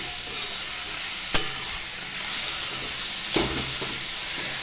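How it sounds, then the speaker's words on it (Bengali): Cabbage stir-fried in a wok over high heat, a continuous hissing sizzle with a few sharp spatula scrapes against the pan, close up and with no voices. "কড়াইটা একটু হাই করে খানিকক্ষণ নাড়াচাড়াটা করব।"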